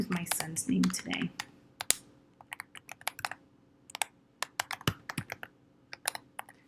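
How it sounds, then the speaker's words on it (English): A name being typed on a computer keyboard, with rapid close key clicks in uneven bursts, at first under a person speaking and then mostly alone. "So I can type in a name."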